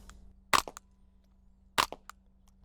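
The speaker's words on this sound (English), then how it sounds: "you can hear the firing pin like almost more than the bullet impact" Two sharp, quiet cracks about a second apart from a suppressed .22 rifle, the firing pin's mechanical snap nearly as prominent as the bullet impact, each followed by a brief faint tail.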